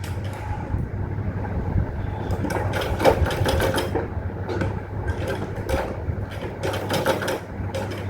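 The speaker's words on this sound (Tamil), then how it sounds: "1/2 இன்ச்சில் ஒரு கட்டு தையல் போட்டு தைக்கிறேன்" A sewing machine runs steadily through chudithar fabric with a constant low motor hum, its needle rattle rising in bursts of fast stitching and briefly easing between runs.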